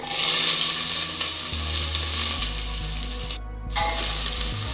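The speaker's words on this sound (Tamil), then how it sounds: "எல்லாத்தையும் சேர்த்து நல்லா வதக்கிக்கலாம்." Onions, green chillies and curry leaves sizzle and sauté in a hot pan for a hotel-style vegetable kurma, a loud steady frying hiss with the scrape of stirring, close up and without talk.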